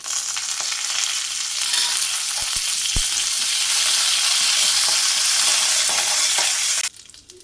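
Dried red chillies, added after popping mustard seeds, fry in hot oil in a pan, making a loud, steady sizzle with a couple of sharp ticks early on before the sound cuts off abruptly near the end.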